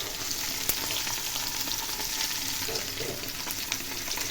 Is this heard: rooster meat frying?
yes